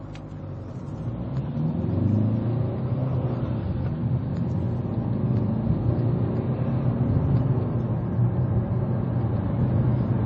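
A car accelerates onto the A12 road during emission testing, its engine swelling into a steady, loud, rumbling drone heard from inside the vehicle with no speech.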